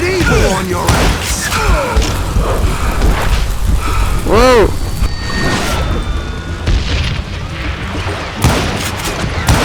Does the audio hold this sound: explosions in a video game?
yes